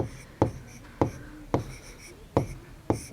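Chalk writing a date on a classroom board: five crisp taps and scratchy strokes at an uneven pace, close and fairly quiet, with no voices.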